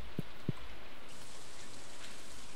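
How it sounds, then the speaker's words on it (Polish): Steady rain pours down in Stardew Valley, a soft continuous hiss that fills the scene, broken early by two low thumps. "deszcz pada teraz"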